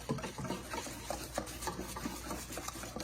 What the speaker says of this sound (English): I'm going to use my whisk because that's going to be a whole lot easier